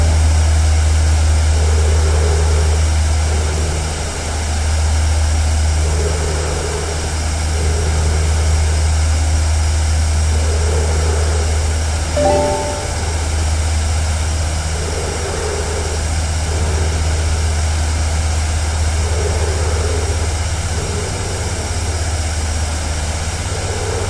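Engine roar of an ME 262 A-1A jet fighter in a flight video game, a loud steady low drone with a faint pulsing rhythm and one short tonal blip midway, with no voices.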